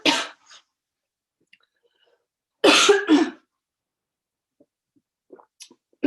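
Two or three sharp, harsh coughs ring out close up, separated by quiet pauses, with a faint breath between them.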